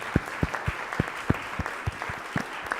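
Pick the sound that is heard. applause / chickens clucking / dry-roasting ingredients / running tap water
applause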